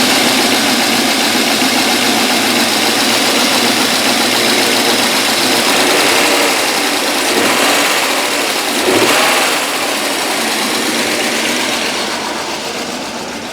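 A 1998 BMW 740iL engine, just restarted after a fuel pump replacement and running rich, makes a loud, steady, close-up drone with no speech, swelling briefly near the middle before easing off slightly toward the end.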